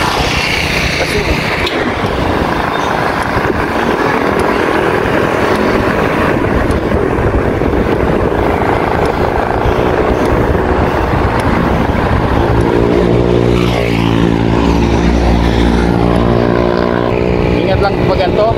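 A motorcycle rides along the road at night, its engine droning steadily close by, swelling into a louder revving passage toward the end, while a voice talks at times.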